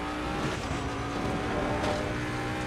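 A race car engine roars in Assetto Corsa Competizione version 1.2, a loud continuous buzzing drone with shifting pitch, alone throughout.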